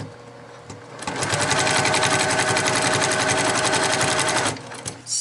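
Sewing machine stitching binding onto a quilt, starting after a second and running at a fast, even mechanical rattle, loud and close, then stopping near the end.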